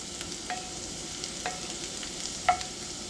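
Green pepper and green onions sauté in butter in a cast iron pan, giving a steady, faint sizzle with a few light utensil taps and stirs.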